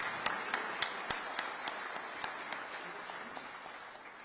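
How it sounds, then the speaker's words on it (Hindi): An audience in a hall applauds to welcome President Droupadi Murmu at the launch of the National e-Vidhan Application, with steady dense clapping and a few sharper claps, moderately distant and fading slightly toward the end. "आइए तालियों की गूंज से महामहिम राष्ट्रपति महोदया का स्वागत अभिनंदन करें।"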